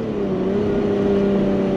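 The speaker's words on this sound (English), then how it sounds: "Nice downshifts." Engine of a Lotus Evora GT six-speed sports car droning with a steady, even hum that holds one pitch throughout, close and fairly loud with no voices.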